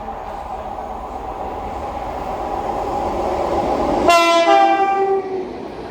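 A train runs through Nuneaton station on the West Coast Main Line, bound from Liverpool Lime Street to London Euston: a rising rumble as it nears, then a loud, sustained horn blast cutting in over the running noise near the end.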